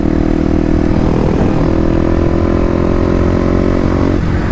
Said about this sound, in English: kind of just seems like I'm revving the bike out for a long time